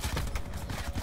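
Rapid gunfire in Black Ops 4, a fast burst of thudding shots close by, repeating in quick succession.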